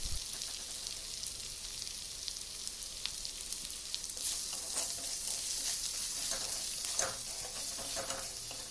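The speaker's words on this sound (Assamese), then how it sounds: "মছলাখিনি ভালদৰে ভাজি ল'ব" Spices sizzle in hot oil with chopped onion and chili, including red chili powder, cumin, coriander, salt and turmeric, crackling steadily up close; stirring scrapes grow louder toward the end, with no voices.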